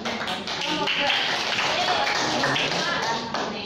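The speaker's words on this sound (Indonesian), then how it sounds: "Beri aplaus lah" Classroom applause breaks out during a microteaching lesson on the human respiratory system, with many hands clapping steadily and fairly loud for several seconds, dense and even throughout.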